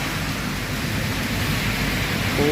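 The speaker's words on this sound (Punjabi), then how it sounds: "ਬਹੁਤ ਜ਼ਿਆਦਾ ਜਿਹੜਾ ਵਾ ਉਹ ਤੇਜ਼ ਮੀਂਹ ਪੈਣ ਡਿਆ ਇਸ ਵਕਤ" Heavy rain pours steadily onto a city road in Jalandhar, a dense, loud, unbroken wash of noise from start to finish with no talking.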